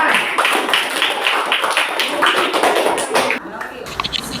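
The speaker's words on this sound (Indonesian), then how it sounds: "Kasih tepuk tangan" A classroom of pupils claps together at the end of a lesson, a loud, dense burst of close hand claps with tapping and some voices, tapering off into a few scattered claps near the end.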